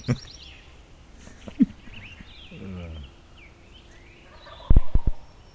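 Wild turkeys gobble on opening morning of an Arkansas turkey hunt, with several distant rattling calls heard across a quiet woodland, then a burst of louder close gobbles near the end, with faint birdsong and soft talk.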